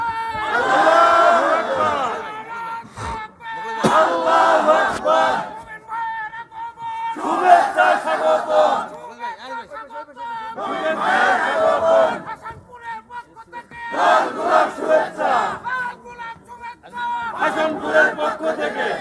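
A large crowd at an Islamic religious gathering in Bogura, Bangladesh, chants the takbir in loud, massed bursts that rise and fall about six times, with brief quieter gaps between the chants.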